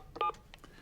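A short burst of telephone keypad dialing: a few quick DTMF beeps, one louder tone in the middle, fairly faint and close, with nothing else heard.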